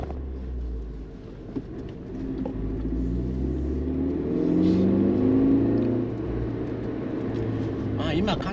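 A Suzuki Jimny Sierra rolls slowly along a narrow road at about 25 km/h, its low engine rumble and road noise steady and close, with someone talking over it throughout.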